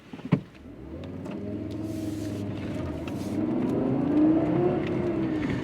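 A 1997 Fiat Coupe's turbocharged 220 bhp engine runs steadily with a low hum, the note climbing gradually toward the end as revs rise, after a brief knock near the start.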